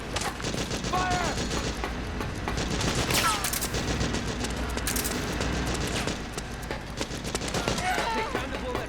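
Gunfire in Metal Gear Solid 4 battle: bursts of rifle shots and scattered reports crackle across a busy combat scene, with shouted voices mixed in under the shooting.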